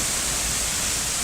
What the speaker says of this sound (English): I gotta get you this other waterfall because it's so serene down here